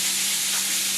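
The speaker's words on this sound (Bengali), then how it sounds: "লম্বা লম্বা ব্যাট পাঁপড় ভাজা হচ্ছে" Long bat-shaped papad deep-frying in hot oil gives a loud, steady, dense sizzle that fills the whole short moment without a break.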